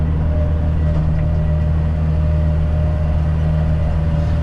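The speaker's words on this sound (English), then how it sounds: "Must be used to the sound of the tractor." A tractor engine idles and runs steadily on a wooded hiking trail, a constant low drone with a firm hum and no change in pace, close by and alone with no voices.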